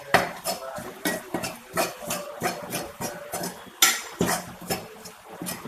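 A spoon scraping and clinking against a pan while turmeric, chili and coriander powders are stirred for bitter gourd theeyal, in a steady rhythm of close, fairly loud strokes, with no talking.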